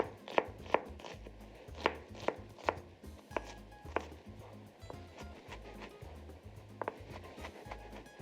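A knife chops green onion and onion finely on a cutting board in quick, evenly spaced taps, sharp and close, with short pauses between bursts and no speech over the cutting.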